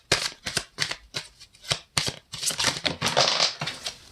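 Tarot deck being shuffled by hand, quick rustling card riffles and flicks coming in short bursts, close and fairly soft, with no talk.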